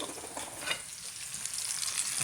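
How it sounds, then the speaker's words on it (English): Shrimp frying in bacon grease over moderate heat, a soft continuous hiss and crackle heard at close range, fairly quiet and without voices. "I'm going to fry the shrimp right in the bacon grease"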